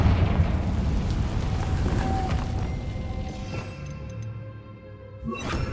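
Confringo fire spell explosion in the Hogwarts Legacy video game, a loud roaring blast that rumbles and slowly fades, followed by a brief sharp crackle near the end.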